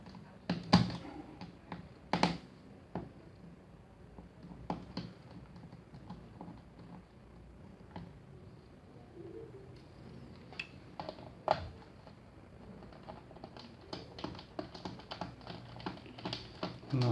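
Small screws being removed from the bottom casing of a Dell Inspiron 5575 laptop: a quiet series of close, irregular clicks and ticks from a screwdriver and loosened screws, with no one speaking.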